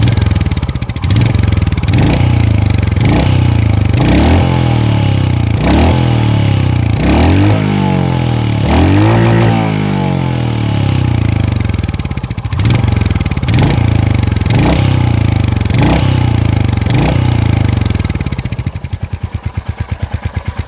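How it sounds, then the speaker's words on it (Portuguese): A Royal Enfield Hunter 350 single-cylinder motorcycle engine idles with a chugging beat, then revs up in several sharp bursts that rise and fall, close and loud throughout. "Por mais que seja o um monocilíndrico, eu gostei desse ronco."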